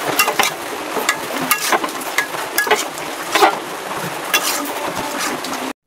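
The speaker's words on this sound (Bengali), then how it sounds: "পেঁয়াজ দিয়ে দিলাম।" Onions frying in a pan of beef kala bhuna, a steady loud sizzle broken by scraping and stirring clatter throughout.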